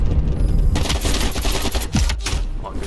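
Rapid bursts of AK rifle fire in Call of Duty Black Ops Cold War multiplayer, loud and close, with sharp repeated shots stuttering through most of the stretch over game ambience.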